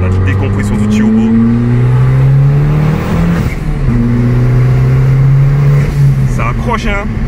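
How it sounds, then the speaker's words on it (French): An Abarth 695 Stage 3 turbocharged car's engine revs loud and close with rising and falling drone, with turbo blow-off hiss, while people talk over it. "au niveau du bruit, wow, la décompression du turbo"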